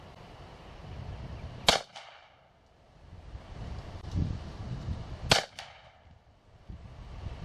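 Two sharp, loud gunshots, several seconds apart, each with a short echo, crack from a revolver and rifle at an outdoor target range, with steady wind noise buffeting the microphone between them.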